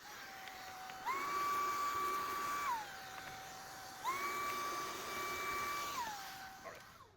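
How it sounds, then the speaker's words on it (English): A vacuum cleaner sucks up debris around a thermostat housing in the engine bay of a 2017-2022 Chevrolet Colorado with the 3.6L engine, whining steadily and close with two rising surges in pitch, no talking. "then we're gonna vacuum around it because there is quite a bit of debris over here in ours"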